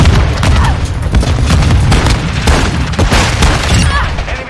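A flashbang grenade goes off in Modern Warfare 2, its loud boom buried in a dense, continuous din of gunfire, bursts and battle noise that stays heavy throughout.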